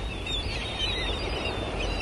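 Seabirds call faintly by the sea in thin high-pitched cries over a constant wash of surf and wind, with no voices.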